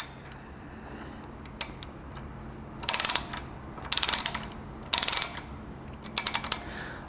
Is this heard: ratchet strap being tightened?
yes